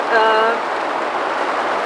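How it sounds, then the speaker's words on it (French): Heavy rain drums on the roof of a yurt, a dense steady patter resonating through the interior, with a brief voice-like tone at the start. "il pleut fort, hein. Dans la yourte, ça résonne."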